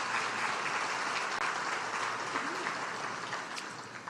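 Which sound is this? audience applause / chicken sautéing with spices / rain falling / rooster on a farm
audience applause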